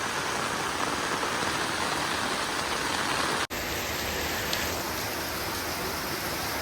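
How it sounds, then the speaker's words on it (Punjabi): Heavy monsoon downpour pours steadily as a dense, loud, unbroken hiss, with one brief dropout midway before the roar resumes. "ਬਹੁਤ ਪੂਰਾ ਫੁੱਲ ਮੀਂਹ ਪੈ ਰਿਹਾ"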